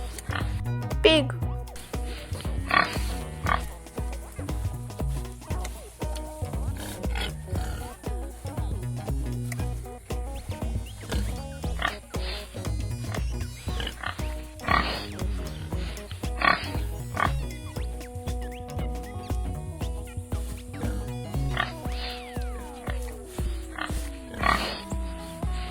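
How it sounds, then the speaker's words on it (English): A pig oinking and grunting close by, with repeated short rhythmic snorts in quick succession, loud and alone throughout. "Pig."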